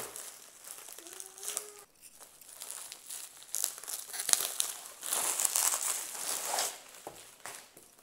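Plastic wrapping on a diamond painting kit is torn open and handled, giving close, continuous crinkling and crackling with brief tearing bursts and quieter pauses.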